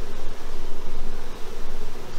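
Honey bee drones on a hive frame make a loud, close, continuous buzzing drone with a fluttering pulse and no pauses.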